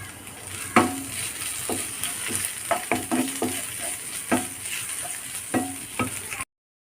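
Curry leaves crackle in a hot pan of red spinach dish, a constant sizzle broken by repeated sharp scrapes and knocks of a spoon stirring against the pan, close and moderately loud.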